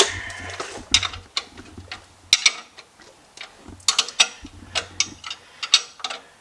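A 19 mm wrench tightens the metric ball joint nuts on a 1993 Chevy pickup, producing sharp metallic clicks and ticks in irregular clusters, close and fairly loud, with dull knocks between them and no talk.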